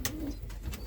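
Birmingham Roller pigeons coo softly in a loft, a low murmuring call over steady background noise with a few sharp clicks and rustles, no speech.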